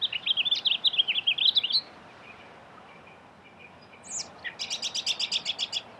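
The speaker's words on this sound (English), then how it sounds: "This male house finch was also perched on the purple martin houses and singing his heart out." A male house finch perched on purple martin houses sings a bright, warbling run of rapid notes, pauses briefly, then delivers another quick jumbled phrase, clear and fairly close against a quiet outdoor background.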